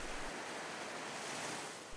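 Sea waves roll onto the coast at Ystad as a dense, continuous wash of surf, steady and fairly close, with wind rushing over it and no voices.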